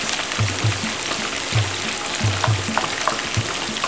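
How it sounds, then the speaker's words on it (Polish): Carrot, shallot and mushroom pieces fry over high heat in hot fat in a pan for Thai-style chicken, giving a steady close sizzle with soft crackles and occasional low thumps from stirring. "i smażymy na ostrym ogniu,"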